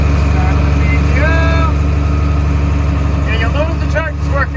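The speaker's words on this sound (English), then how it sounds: "you'll notice the tractor's working really hard" A tractor engine labors hard while mixing very dry silage, a loud steady low drone with rhythmic mechanical pulsing, and voices talk over it.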